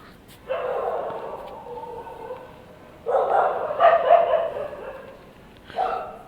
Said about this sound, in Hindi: ये डॉगी क्यों भौंक रहे हैं?